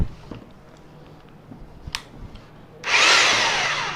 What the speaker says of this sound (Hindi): ये अभी रोटेशन और सिर्फ ड्रिल के मोड पे है।